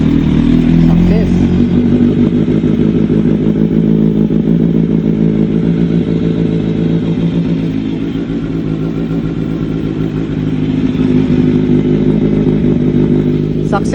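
Kawasaki Z900 motorcycle engine running steadily after a fuel pump motor replacement, a close, loud, rhythmic idle rumble with mechanical clatter that holds evenly throughout.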